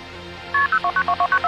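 A telephone keypad dials a number to call an ambulance, giving a quick run of about nine clear, evenly spaced DTMF tones, loud and close, after a short quiet lead-in.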